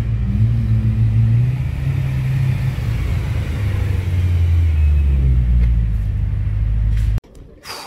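Cars being parked at a BMW dealership: a steady, loud low engine rumble runs throughout with some revving, then cuts off abruptly near the end, leaving a brief quieter tail.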